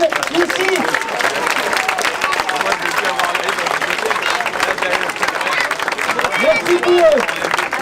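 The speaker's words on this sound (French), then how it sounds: "Je vous remercie de les applaudir tous, que vous soyez pour ou contre." A crowd at a Paris street protest against a crack centre applauds steadily, with dense clapping and scattered voices. A speaker talks over the applause from nearby, and the clapping keeps a constant level throughout.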